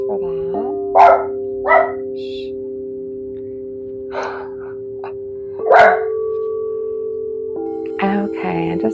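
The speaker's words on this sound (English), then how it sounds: "I'm not sure why my dog was barking." A dog barks in several sharp, separate bursts over a steady droning tone during an indoor yoga session.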